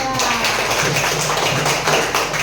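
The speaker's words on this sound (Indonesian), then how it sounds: "Tepuk salut dulu untuk kita." A classroom of pupils claps together in a rhythmic salute, a steady run of bright, dense hand claps that continues for the whole stretch, loud and close.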